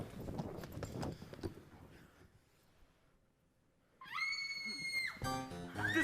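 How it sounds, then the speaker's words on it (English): A woman's high, piercing scream rises from offstage in the billiard room during a live stage production of Clue. It breaks out loudly after a quiet pause and is followed by a second, shorter cry. "The screams are coming from the billiard room."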